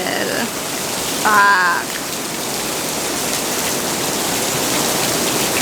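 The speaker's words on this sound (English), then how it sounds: "Here is more rain on this side." Heavy rain falling on a circus big top tent, a loud, steady hiss of drops pattering on the canvas, nearby and continuous, with a single brief spoken exclamation near the start.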